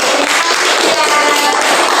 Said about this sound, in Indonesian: tepuk tangan untuk kelompok 4 yang sudah teliti